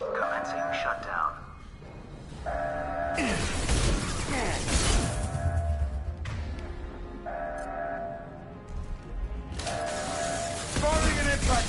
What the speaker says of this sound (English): Get to the console and close that shutter before they can get through.